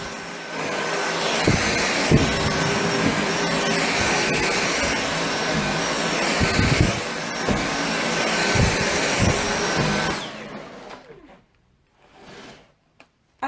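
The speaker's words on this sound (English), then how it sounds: "As you heard, it's a pretty quiet machine. It's picked up every piece of carpet that was loose on the top" A Dyson V8 Absolute cordless vacuum cleaner runs over carpet with a loud, steady whooshing roar that swells a little as it moves. It cuts off abruptly near the end and leaves near silence.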